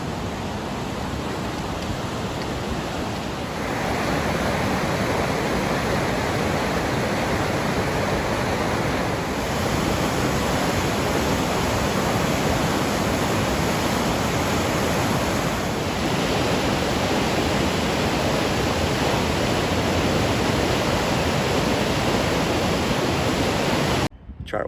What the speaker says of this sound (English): let's have a look at the river here in Renfrew